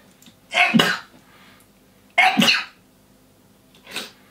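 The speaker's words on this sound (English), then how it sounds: "Are you sneezing out colour" Two sharp, explosive sneezes about a second and a half apart, followed by a fainter third burst, with quiet room noise between them.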